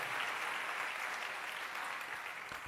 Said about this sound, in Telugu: చప్పట్లు కొట్టి ప్రభువును మహిమపరచండి.